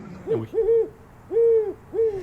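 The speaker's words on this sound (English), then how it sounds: "The owl was too loud and it was keeping them awake that night." An owl hoots in a steady series of four deep, resonant calls, loud and fairly close, alone at night in Portola Valley.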